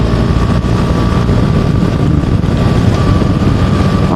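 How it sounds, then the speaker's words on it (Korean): Riding a BMW R1300RT touring motorcycle gives a steady, loud exhaust drone with a continuous wind-rushed roar over it and no break through the whole stretch. "배기음이 잘 담길까 모르겠네."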